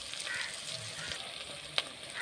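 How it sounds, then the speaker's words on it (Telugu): Ginger garlic paste fries in a pan for a prawn curry, giving a steady close sizzle with faint stirring scrapes and one sharp clink near the end; nobody speaks. "ఇప్పుడు అల్లం వెల్లిపాయ పేస్ట్ వేసుకుందాం"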